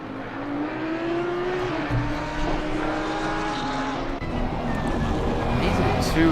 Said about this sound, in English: These are the two of the closest cars out on track.